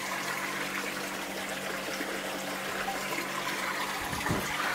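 Water from an aquaponics siphon outlet runs through a 25 mm to 20 mm reducer in a steady, continuous trickle and gush, heard close with a brief surge near the end and no talk.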